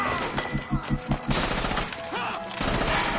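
Bursts of gunfire in the video game Assassin's Creed Rogue, a rapid volley of close shots followed by a louder, denser barrage, with shouted voices mixed in.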